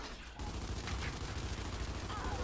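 Gears 5 ranked Control match: a steady roll of muffled gunfire starts abruptly and continues without pause, fairly quiet and low-pitched.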